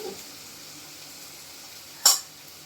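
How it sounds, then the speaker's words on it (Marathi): Chopped onion browns in a pan for a tomato-onion chutney, a soft steady sizzle heard close and alone, broken by one brief sharp clink of a utensil against the pan near the end. "आता परततोय तोपर्यंत कांदा"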